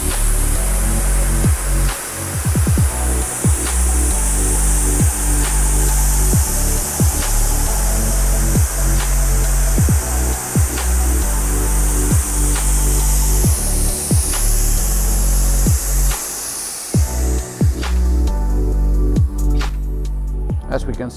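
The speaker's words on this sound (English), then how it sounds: "The longer you grind, the rounder it gets." A Timesavers 10 Series deburring machine grinds the edge of an aluminium part, producing a loud, continuous abrasive roar with regular ticking pulses across the whole stretch.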